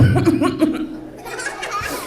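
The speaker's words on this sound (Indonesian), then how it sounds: "Tuh kan batuk lagi." Cartoon caterpillar character coughing in a children's Ramadan story, a few short, harsh voiced coughs close to the mic, then a quieter rough trailing breath.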